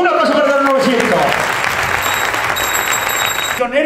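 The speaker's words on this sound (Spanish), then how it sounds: "¡Un aplauso para los 900!" A crowd claps in sustained applause at an auction during the Virgen de la Cabeza village festival, dense and lively after a voice briefly calls out over a loudspeaker at the start.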